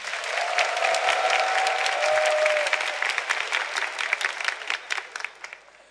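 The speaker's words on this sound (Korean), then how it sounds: "다시 한번 큰 박수 부탁드립니다" Big audience applause at a military entertainment show for an armored brigade, steady clapping with a brief cheer-like tone, tapering into scattered claps at the end.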